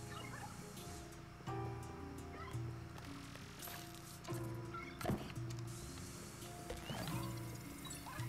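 A cat meows repeatedly in the Luigi's Mansion 3 video game, several drawn-out yowling calls spaced over a few seconds against background game music and effects.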